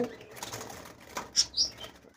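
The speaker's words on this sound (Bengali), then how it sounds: "ডায়মন্ড ডাব গুগু পাখি রয়েছে" Brief soft flutters of diamond dove wings, a couple of quick flaps standing out over faint background noise.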